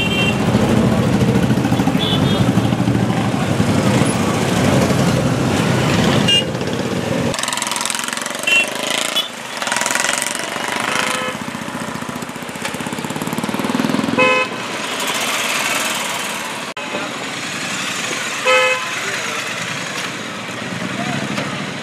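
Motorcycles departing from a bikers rally at a flag-off ceremony, engines idling and revving amid short horn toots, with crowd noise and talk around them throughout.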